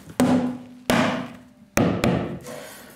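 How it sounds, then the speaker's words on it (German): Four sharp hammer blows on wood during tiny house construction, loud and close, spaced unevenly with ringing decay between strikes and no voices. "Das ist noch immer mal der Hammer."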